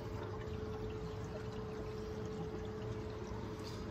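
Water flowing through the inlet of an indoor cayenne pepper growing setup: a continuous, even gush and trickle with a steady low pump hum underneath, close and fairly faint.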